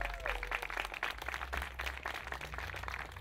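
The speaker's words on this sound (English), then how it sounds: "see that applause right there?" Crowd at a library renaming and groundbreaking celebration applauds in a continuous, fairly loud patter of many hands, with a low hum underneath and a few faint voices.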